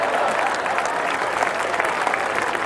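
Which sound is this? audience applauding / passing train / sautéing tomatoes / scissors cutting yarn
audience applauding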